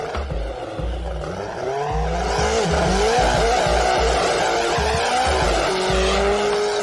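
A race car does a serious burnout at a night drag-racing event, its engine roaring loud and near as the tires squeal continuously over a background of crowd noise.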